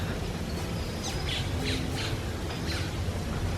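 Several short, harsh squawks from a bird climbing a tree, in a loose series over steady outdoor resort background noise in Punta Cana, Dominican Republic, moderately close, with no voices.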